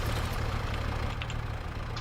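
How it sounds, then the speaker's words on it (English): Tractor engine in Farming Simulator 25 working to clear a tree stump, a steady low droning rumble held at constant loud level throughout, with no talk. "This tractor's really good for this, actually. The only thing is how noisy it is"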